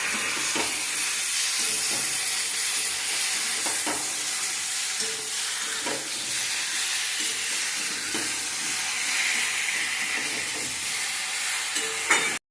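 Spices fry steadily in a pan with salt and turmeric as vegetables are sautéed for Bengali shukto. A continuous close sizzle and hiss carries soft stirring scrapes at intervals, and no one speaks.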